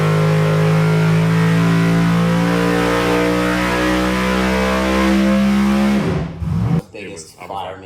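A NASCAR engine in a 1955 Chevy 210 revs hard on a dyno, a loud sustained howl held steady near its peak, then cutting off abruptly into fading rumbles and brief noise.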